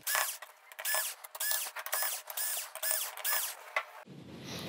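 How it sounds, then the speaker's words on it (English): Small silver screws are backed out of the metal cover plate over the T-Con board inside a Sony XBR-65X850E television. A screwdriver makes a steady run of close, rapid ratcheting clicks, then everything stops abruptly near the end. "we are going to get the silver screws removed here from this plate that is covering the T-Con board"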